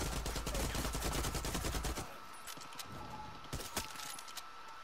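Rapid bursts of automatic gunfire in Far Cry 6 fill the first two seconds with dense crackling shots, then drop to quieter scattered shots and ambient game noise.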